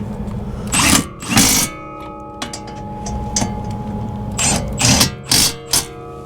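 An impact wrench runs in the rear wheel bearing bolts on a 2011-2014 Ford Edge or Lincoln MKX. Several short, loud hammering bursts come up close, with quieter gaps between them and no talking.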